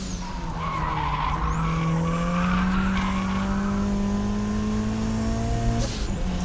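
A turbocharged Mazda Miata slides through a corner on a track, its tires squealing loudly and continuously over a steady engine drone that gradually rises in pitch.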